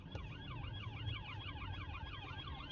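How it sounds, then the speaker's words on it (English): Several police cars pass on a Nottingham road with a rapidly wailing, cycling siren, heard faint and somewhat distant over steady road rumble. "police cars, three police cars"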